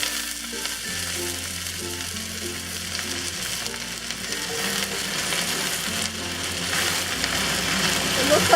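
Dandelion greens stir-fry in hot oil in a wok with garlic, giving a loud continuous sizzle and crackle. Low hum and faint background sounds run underneath, and there is no talking.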